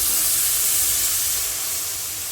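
Water from a mustard and poppy seed paste hits hot spices in a pan while cooking prawn malai curry, giving a loud, close, continuous sizzling hiss that fades slightly toward the end.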